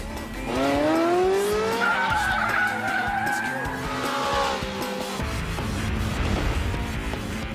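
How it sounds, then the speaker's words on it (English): A Mitsubishi Evo 8 with permanent four-wheel drive skids through a slalom, its tires squealing in long rising and falling whines over a steady engine roar, loud and close, before the squeal fades into continuing engine noise. "the awesome Mitsubishi Evo 8 with permanent four-wheel drive finds a slalom can catch him out"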